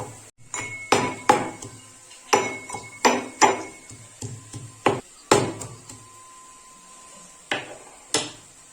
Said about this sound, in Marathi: तो लसूण मी आता कुटणीमध्ये कुटून घेणार आहे म्हणजे ठेचून घेणार आहे